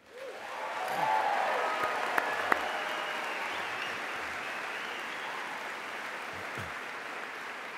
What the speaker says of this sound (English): we can hold our applause until I introduce everybody else